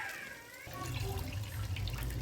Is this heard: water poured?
yes